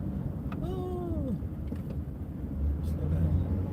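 A big truck passes on the road, its deep rumble and engine drone swelling past the car, with speech and a sliding tonal whistle heard over the noise.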